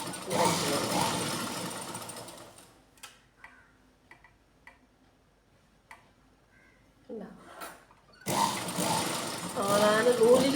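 A domestic sewing machine stitches along the edge of cloth beside a laid-in cord, running in steady rapid bursts at the start and end with a quieter pause between, close and fairly loud with a voice talking over it.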